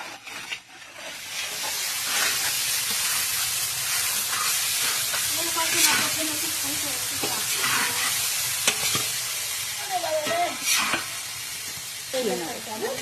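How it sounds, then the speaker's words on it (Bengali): Cabbage frying and being stirred with spice paste, chilli paste and salt in a large pot for a fifty-person meal, a steady loud sizzle and hiss with intermittent scraping stirs throughout. "এখন মশলার সঙ্গে কফিটা ভালো করে কষিয়ে নেব"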